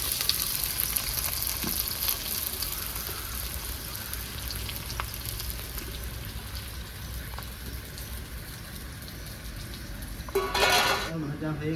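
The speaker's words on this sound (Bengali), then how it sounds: "এবার দিয়ে দেবো কেটে রাখা পেঁয়াজ।" Sliced onions fry in hot oil in a pan with whole garam masala, a steady close sizzle running throughout, with a brief louder surge of crackling near the end.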